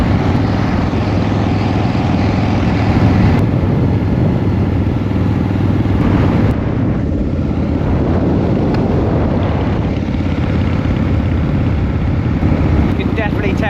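A 1979 Harley-Davidson motorcycle cruises on the road at speed, a loud continuous engine rumble mixed with heavy wind buffeting on the microphone, as the rider talks over it.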